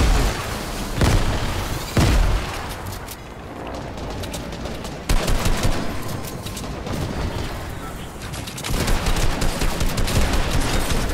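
Grenade blasts and heavy booms in a shooter video game, several loud explosions mixed with sustained gunfire bursts throughout a busy, close-range fight.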